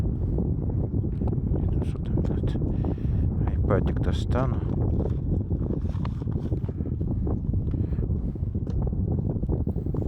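Gusty wind buffets the microphone on a mountain road in Oman, a steady loud rumble that swells in gusts, with someone speaking briefly over it.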